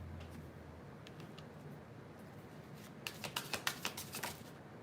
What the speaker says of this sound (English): I want to actually just shuffle a little bit.